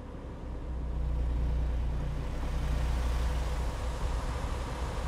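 Engine rumble of a truck driving in the American Truck Simulator video game, a steady low drone with road noise that swells in and holds at a constant level, with no talking.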